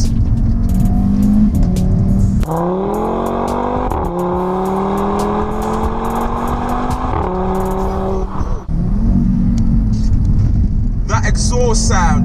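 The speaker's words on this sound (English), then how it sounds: "Exhaust sound, oh my goodness." A turbocharged five-cylinder Audi RS3 engine growls loudly, its exhaust note rising and falling through gear changes, with someone talking over the engine.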